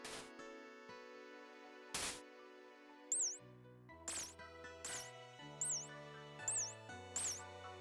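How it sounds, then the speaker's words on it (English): Cartoonish mouse sound effect with sharp clicks and high squeaky chirps repeating at a steady pace over low plucked musical notes, fairly quiet and heard without any talking. "good mouse sound effect"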